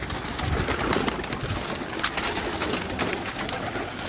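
Pigeons coo in a bird gallery, soft throaty calls repeating under a dense, busy backdrop of fluttering and chatter from many birds nearby.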